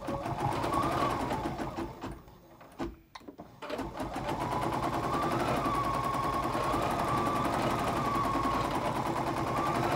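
An embroidery sewing machine runs a decorative stitch on a cherries pillow block, chattering in a fast, steady rhythm that breaks off briefly near the three-second mark and then resumes.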